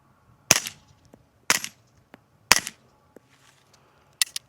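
Suppressed gunshots from a firearm fitted with a suppressor, fired outdoors at a range: three sharp, loud cracks roughly a second apart, then another brief crack near the end, with quiet gaps between them.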